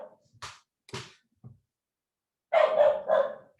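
A dog barks several times, short sharp barks alone at first, then a louder, denser burst of rapid barks close by near the end.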